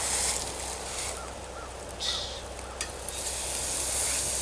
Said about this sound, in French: Je vais laisser griller là